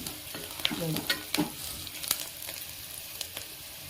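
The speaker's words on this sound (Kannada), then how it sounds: "ನೋಡಿ ಈರುಳ್ಳಿ ಇವಾಗ ಚೆನ್ನಾಗಿ ಫ್ರೈ ಆಗ್ತಾ ಬಂದಿದೆ" Onions frying in a pan for a vegetable biryani, a soft continuous sizzle under intermittent scraping and stirring clatters of a spoon against the pan, close and fairly quiet.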